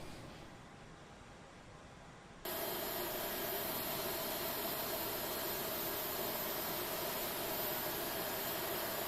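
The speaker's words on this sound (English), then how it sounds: "We're going to start engine number 2." A British Airways Airbus A318 jet engine starting at the gate, a soft hiss that jumps abruptly into a loud steady whooshing roar with a faint whine, sustained to the end.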